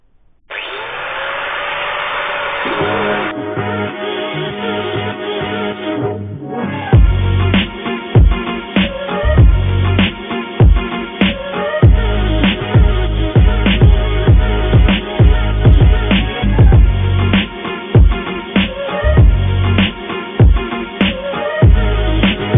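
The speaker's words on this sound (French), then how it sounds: "Donc là, je vais polir ici pour pouvoir venir souder." An angle grinder or similar power tool whines steadily while polishing rust off a metal nut before welding, with short bursts and repeated pulses as the tool presses against the workpiece, close and loud throughout.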